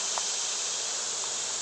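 Honey bees around a hive infested with hive beetles make a steady, dense buzzing at close range, continuous and uniform with no talking.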